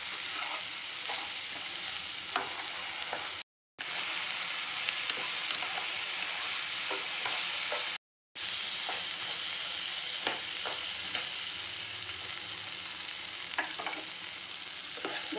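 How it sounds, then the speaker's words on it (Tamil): Sliced okra (lady's finger) sautéing in oil for a Tamil-style lady's finger rice, a steady close sizzle and frying hiss with occasional stirring scrapes, uninterrupted except for two brief dropouts. "எண்ணெயிலே நல்லா வதக்கி விட்டுக்கலாம்"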